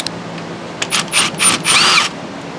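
A power driver or small tool backing out T25 Torx bolts on a UTV brake line, several short whirring bursts, close and fairly loud, with no talk.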